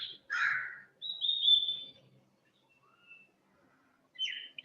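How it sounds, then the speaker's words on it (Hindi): Crows cawing outside near a classroom, a few loud harsh calls in two bursts with a quieter distant caw between them and a short call at the end. "कौवे की आवाज आ रही है."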